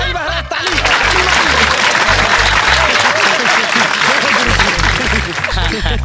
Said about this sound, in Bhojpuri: ताली मारी महाराज ताली